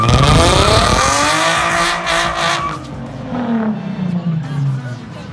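A car with straight-piped exhaust revs hard and loud, its engine pitch sweeping up and then falling away in raspy, droning pulls, close to the microphone.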